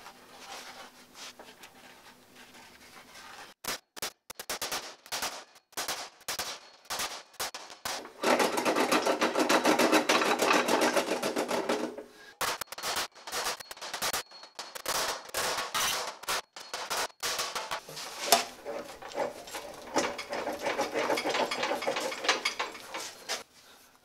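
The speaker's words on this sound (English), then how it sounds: "we'll trace this out on this piece of sheet metal, roll it in the English wheel" A sheet of metal is rolled back and forth through an English wheel in a workshop, giving long stretches of rolling metallic rumble broken by rapid clicks and sharp clanks, close and fairly loud.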